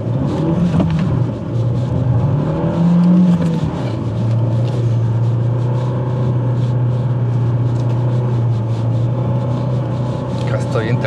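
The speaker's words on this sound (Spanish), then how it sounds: "Acá estoy en tercera, 4000 revoluciones. Pisando a fondo" A Renault Duster 4WD with a 1.3 turbo direct-injection engine pulls hard at full throttle in third gear, a steady droning roar holding around 4000 rpm inside the cabin.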